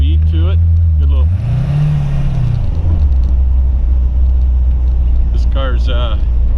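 A 1928 Ford Tudor all-steel street rod with a Positraction rear end drives past: a deep engine rumble that rises and holds as it goes by, then lingers steady and low while someone talks over it.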